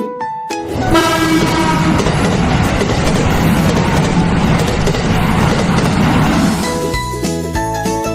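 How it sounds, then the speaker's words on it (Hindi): A train rolls past loudly and steadily with rumbling wheels and a sustained horn-like tone, fading at the end as a few tinkling notes come in. "रे से रेलगाड़ी।"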